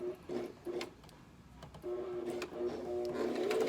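A home sewing machine stitches a fabric mask in short motor bursts separated by brief pauses, then runs longer and louder toward the end. It is close and clear, with no talking.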